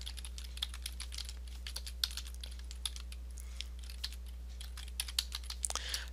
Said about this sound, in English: Now, I need to type in my identification information.